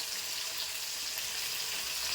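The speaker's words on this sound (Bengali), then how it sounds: "মাছটা আস্তে আস্তে ভালো করে ভাজা হোক দু পিস" Two pieces of fish fry slowly in hot oil, a steady close hiss of bubbling and crackle that runs evenly without pause and with no voices over it.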